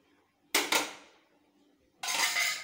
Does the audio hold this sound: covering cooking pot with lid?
yes